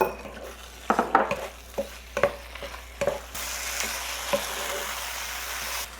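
Samosa filling is stir-fried in a wok, with a utensil clinking and scraping against the pan in scattered strikes before a steady sizzle of frying takes over, close and clear with no talk.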